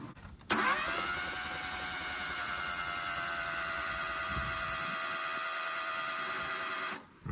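Car engine cranking over on the starter with its spark plugs removed, a fast even whirring spin that starts abruptly and runs steadily for about six seconds before cutting off, close and loud with no voices.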